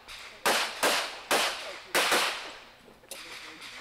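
Pistol gunshots at a USPSA shooting match, four sharp loud reports in fairly quick succession followed by a fainter fifth shot after a pause, with outdoor echo.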